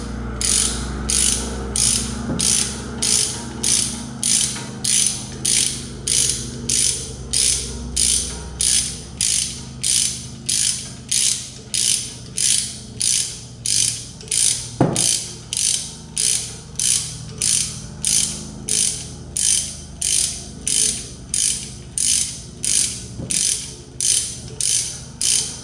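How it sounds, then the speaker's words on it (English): Steady ratcheting clicks from a ratchet turning a Torx T45 bit to wind back the electronic parking brake on a 2015 BMW X3, a rapid even pawl rhythm running close and loud throughout with no talk. "Put that in here and rotate this clockwise until it stops rotating."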